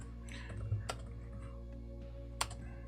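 Keys clack on a computer keyboard as a command is typed, a few close, sharp clicks scattered over a quiet steady hum.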